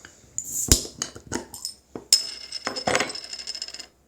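Bottle of Old Stock Ale beer being opened, with a series of sharp metallic clinks and taps from the cap and glass, then a bright ringing snap midway, followed by scattered rattles and clinks.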